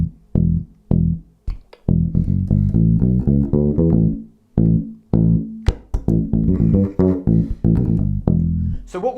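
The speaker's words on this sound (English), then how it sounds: "So the first part of this is a 4-bar bass line," Four-bar electric bass guitar line played alone, loud and punchy, with rhythmic plucked notes in short phrases separated by brief gaps.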